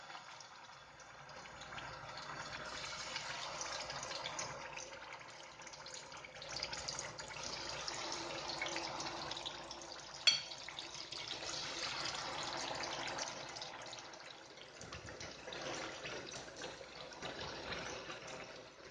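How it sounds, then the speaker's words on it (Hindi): Chicken pieces lowered into hot oil in a pan give a continuous, fairly soft sizzling hiss with gentle fluctuations, heard close and alone without talk. "ऑयल गर्म होने पर इसमें इस तरह चिकन के पीस डाल देना है।"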